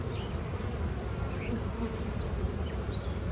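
Honeybees in a strong, recovering hive, a dense continuous buzz held close and steady with no voices.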